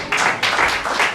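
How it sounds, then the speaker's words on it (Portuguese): Congregation at a church service applauding, a rolling wave of many hands clapping with surges in intensity, steady and fairly close. "Se é para Jesus, pode aplaudi-lo mais forte,"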